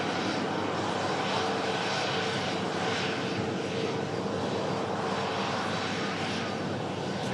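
A jet airliner taxis past at an airport, its engines producing a steady, loud, broadband roar that holds evenly throughout at fairly close range.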